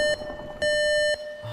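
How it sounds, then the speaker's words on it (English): A beeping alarm goes off in a Minecraft animation, with two loud electronic beeps. A short beep is followed by a longer held one over faint background noise. "Assistant Kai, why is the alarm going off?"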